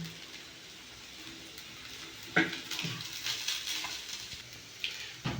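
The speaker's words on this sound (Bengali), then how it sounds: "ভালো করে আমি দু মিনিট নাড়িয়ে নামিয়ে নেব" Peanuts stirred in a little ghee in a pan make a faint, continuous sizzle. A few scraping strokes and light knocks of the spoon against the pan sound close by.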